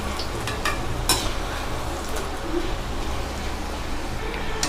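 Okra pieces fry in hot oil while being turned over, giving a steady close sizzle with a few sharp scraping clicks from the utensil.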